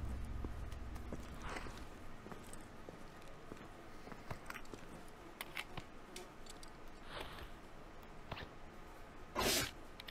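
A single short sneeze bursts out near the end, loud and sudden against a low, steady ambient background with a few soft scattered noises.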